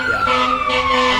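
Fire truck sirens near the scene of a car crash after a police pursuit, a steady wailing tone held loud and close throughout the short stretch, no talk over it.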